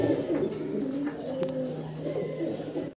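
A male black Lahori pigeon coos close by, low throaty rolling coos repeated over a few seconds against a light background of other bird sounds.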